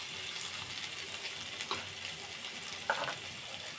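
Garlic and green chilies fry in a pan with a steady, close hiss and sizzle, broken by a couple of brief stirring clinks.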